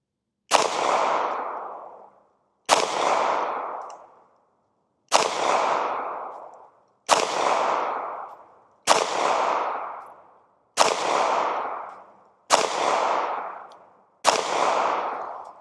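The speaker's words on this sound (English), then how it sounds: "I'm gonna shoot at the bottom right side of the target and get another group going" Eight evenly spaced shots from a Ruger LCP MAX pistol fired at a paper target, each a sharp loud crack with a short ringing decay, roughly two seconds apart and heard alone.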